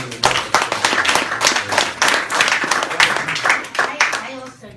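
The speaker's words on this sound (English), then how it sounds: "I think we owe ourselves a round of applause." A meeting of a state delegation at a national party convention breaks into a round of applause: brisk, close hand claps rising and falling in bursts for several seconds while voices talk and call out.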